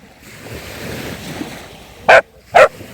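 Two sharp dog barks in quick succession, near and loud, after a few seconds of soft outdoor rumble and wind.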